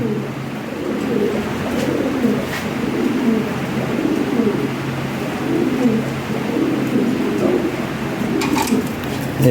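Lahori Sirazi pigeons coo in low, repeated throaty calls, close by and continuous, with faint background noise and occasional brief knocks.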